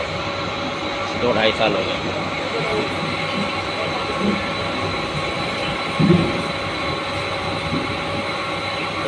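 Inside a moving passenger train near Wadala, with a continuous rumbling rattle of the carriage and faint wheel clatter, plus a couple of brief squeaks or knocks, while someone speaks over the noise.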